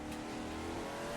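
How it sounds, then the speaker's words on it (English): Car engine accelerating hard up a big hill on the Nurburgring, a faint sustained rising engine note with no voices. "Putting the power down here for this big hill."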